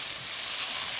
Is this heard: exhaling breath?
no